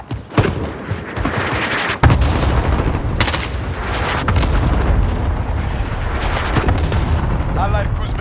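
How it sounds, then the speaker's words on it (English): Cluster strike explosions in Call of Duty: Modern Warfare multiplayer, a continuous rumbling barrage of booms and blasts rolling on for several seconds, with a sharp impact partway through and a game announcer voice over it. "Enemy cluster strike incoming."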